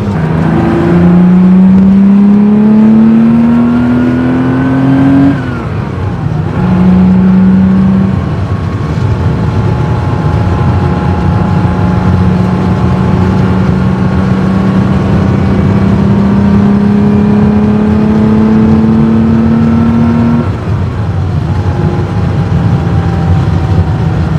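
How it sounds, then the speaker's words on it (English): A loud Porsche flat-six engine revs and shifts through gears repeatedly while driving, pitch climbing then dropping with each change, sustained and close, with no talking. "you guys will have heard all that sound just now, and like I said, nothing beats the flat 6 Porsche engine"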